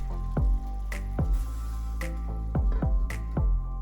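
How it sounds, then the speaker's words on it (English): Chicken being stirred in a soy sauce and apple cider vinegar marinade with garlic, ginger and peppercorns for Filipino adobo, giving several wet squishing, dripping strokes over a steady low hum. "Stir well and cover."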